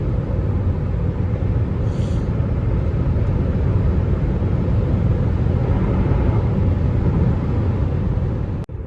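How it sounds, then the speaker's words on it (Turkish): Steady, loud cabin drone and road rumble from an Opel Astra 1.6 CDTI diesel cruising at 140 km/h in sixth gear on a long highway trip, an unbroken even roar with no talk. "6. vites 140 ile hız sabitledim. Bu şekilde gidiyorum"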